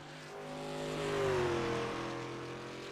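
Race trucks in the iRacing simulation drone around a NASCAR Wild West Truck Series track, one engine note rising and swelling as it sweeps closer, then easing away under a steady roar.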